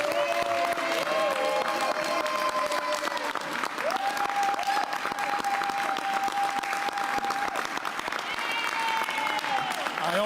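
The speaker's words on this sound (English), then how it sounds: "someone who deserves a big round of applause" Steady applause from a crowd at a New York City budget event honoring a finance committee councilmember, sustained even clapping throughout with a voice speaking over it.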